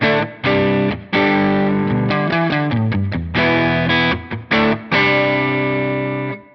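Electric guitar played through a Line 6 Helix preset on default settings, distorted and effects-laden with chorus-like shimmer, a run of loud sustained chords and quick picked notes with short gaps, ringing out at the end.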